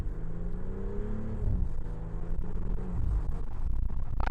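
A BMW X3 M40i pulls away slowly around a corner, its engine and exhaust rising in a low, droning growl as it accelerates, heard from inside the cabin.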